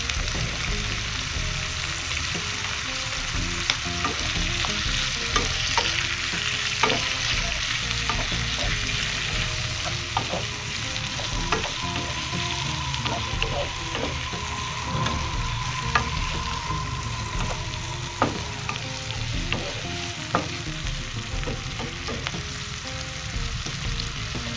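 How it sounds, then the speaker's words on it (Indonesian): Chili and tomato stir-fry with green beans in a pan, a steady loud sizzle running throughout with frequent sharp scrapes and clicks of stirring, no voices. "Kita masukkan cabai dan tomat."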